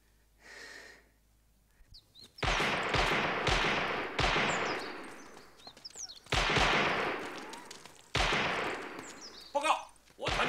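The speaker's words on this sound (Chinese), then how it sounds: "报告，我团正在组织实弹射击" A regiment's live-fire shooting drill: loud, sharp gun reports come in irregular volleys, each a cluster of quick cracks with short gaps between them, some sounding close.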